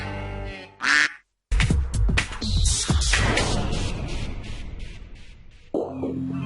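Duck quacking sound effect, a loud harsh quack early on followed after a brief silence by a dense run of repeated, overlapping quacks continuing close and prominent to the end.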